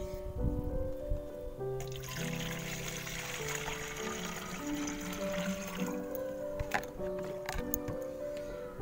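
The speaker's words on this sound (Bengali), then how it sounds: "আমি এখানে দেখুন একটা 1 লিটারের বোতল নিয়েছি। এর মধ্যে আমি প্রথমে জল দিয়ে দেবো।" Water pours steadily into a 1-litre bottle for a few seconds, a soft rushing splash over steady background music.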